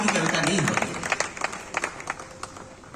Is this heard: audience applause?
yes